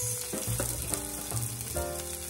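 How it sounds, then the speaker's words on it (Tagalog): Sardines and chopped onion sizzling in a hot frying pan, a steady loud crackle with strong tonal hum from the stove running underneath throughout, no talking. "Init na siguro to ating kawali. So, ilagay ko na ito. Isabay ko na rin yung sibuyas."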